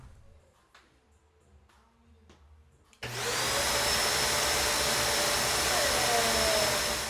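A workshop dust collector in a closet of a small garage kicks on after a few quiet clicks, then runs as a loud, steady rushing roar that continues without pause.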